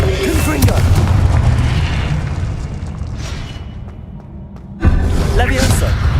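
The Confringo spell explodes in Hogwarts Legacy: a heavy, booming blast rumbles through a noisy battle, then a sudden loud burst hits near the end, with voices present.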